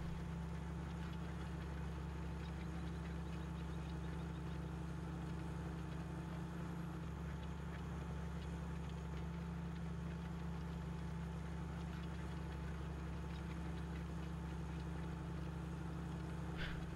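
A tractor engine in Farming Simulator 15 drones at a low, steady idle-like hum for the whole stretch, continuous and unchanging, with no talking.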